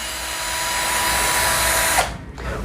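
Whirring of a cordless drill's motor as the keyless chuck spins anticlockwise to release the bit, a steady close buzz that cuts off abruptly near the end, then a faint quiet tail.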